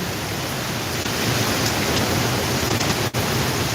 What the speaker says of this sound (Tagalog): Napakalakas ang hangin at ng ulan.